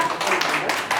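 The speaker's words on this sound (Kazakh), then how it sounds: "Ал шапалақ ұрамыз балалар." Children in a kindergarten group clap their hands together, a dense, steady patter of many small claps lasting about a second, fairly close and continuous with a faint voice mixed in.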